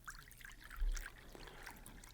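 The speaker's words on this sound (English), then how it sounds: "Cheryl pours us each a cup of coffee." Coffee pouring into cups, a soft quiet trickle of liquid running for a couple of seconds at low level with a faint bump partway through.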